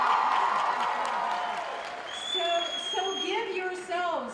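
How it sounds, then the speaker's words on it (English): Applause and cheering from the audience at a Walking Dead panel at New York Comic Con 2013 fill the opening, then thin out as a voice starts speaking over the crowd. "give yourselves a huge round of applause because you have made us the #1 television show on TV"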